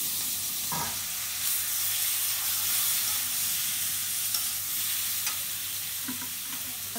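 Shrimp frying in a pan with turmeric and green chilies, giving a steady hiss of sizzling oil with occasional stirring scrapes, close and continuous throughout.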